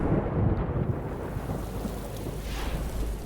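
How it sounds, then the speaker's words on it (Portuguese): Heavy rain and thunder in a Mortal Kombat 11 cinematic for the character Rain: a rumbling thunder roll opens over a constant hiss of rainfall, with a brighter crackle near the end. "tem até uma cinemáticazinha, né? De chuva"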